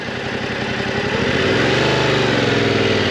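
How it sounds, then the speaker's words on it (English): A motorcycle pulls away as the clutch is eased out of the friction zone from neutral throttle. The steady, close engine note thickens and shifts slightly lower as the bike takes up drive, with no talking. "I'm going to get the bike started by slowly releasing the clutch into the friction zone"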